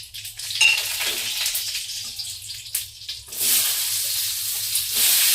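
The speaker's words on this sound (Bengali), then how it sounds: "শুকনো লঙ্কা ফোড়ন দেবো, আর দুটো অল্প করে" Dry red chillies and mustard seeds sputter and sizzle in hot oil, a steady crackling hiss that swells louder in the latter half, with no talking.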